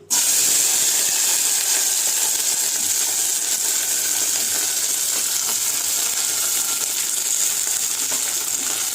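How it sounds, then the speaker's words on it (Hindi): Cluster beans dropped into hot oil, a sudden loud hissing sizzle that starts abruptly and holds steady and close for several seconds. "मैंने ऑयल गरम करके रख चुकी हूँ। अब इसी के अंदर ये गंवार फली डाल दीजिए।"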